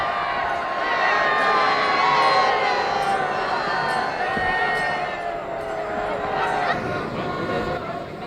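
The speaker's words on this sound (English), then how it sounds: "The sound of applaud and people's participation shows how they view Ram as a divine being." A large Ramleela crowd cheers, whoops and claps loudly and steadily as Ram breaks the bow at the festival performance, with children shouting among the dense roar.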